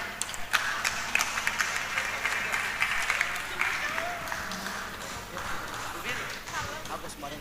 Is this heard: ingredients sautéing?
no